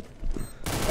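Gunfire in the video game Counter-Strike: Global Offensive comes as a brief burst of rapid shots, sharp and loud, under one second long, with no talking over it.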